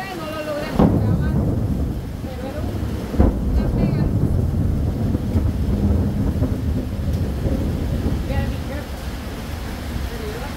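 Thunder cracks and rumbles through a strong, windy thunderstorm in Chalatenango, El Salvador, with two sharp nearby claps over a constant roar of wind and rain and a few voices in the background.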